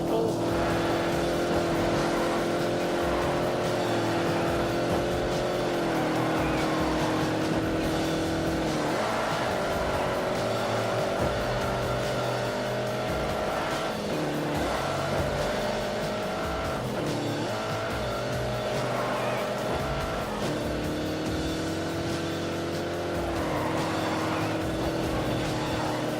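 A car at full throttle in The Grand Tour Game holds a continuous, loud engine drone, with pitch shifts and occasional tire squeal over a long stretch of driving.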